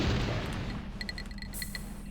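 A grenade detonating in Worms World Party, a muffled boom at the start fading into rumble, followed by a few short bright game chimes and blips.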